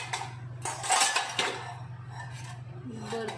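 Metal kitchen utensils clink and clatter close by as someone rummages through a crowded holder for a ladle, with bursts of jangling over a low steady hum and someone speaking in between.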